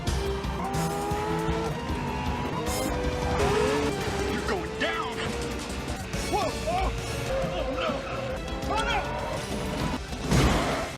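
Car chase from the 1962 film Dr. No: engines roar and tires squeal through repeated skids, with crash-like bangs and a loud burst near the end, all layered under a continuous busy soundtrack with some voice-like sound.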